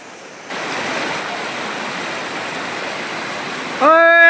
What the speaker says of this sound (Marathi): लवकर पाणी वाढू राहिले अजून जादा वाढू राहिले